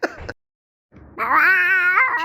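A cat gives a short chirp, goes quiet, then lets out a long, loud, wavering meow close by, with no talk over it.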